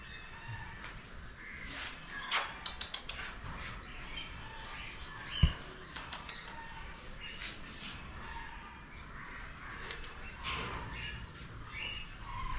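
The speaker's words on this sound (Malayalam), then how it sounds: "ഇവിടെ ഒരു വ്യത്യസ്തമായ തത്ത നമുക്ക് കാണാം, മക്കാവും." A macaw parrot at an elephant park gives a few harsh, raspy squawks amid outdoor ambience, with one sharp nearby call standing out and fainter cries scattered around it.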